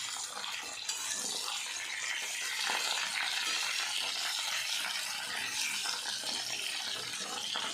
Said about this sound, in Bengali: আস্তে আস্তে ব্রোকলিগুলোকেও দিচ্ছি একসাথে ভাজা হবার জন্য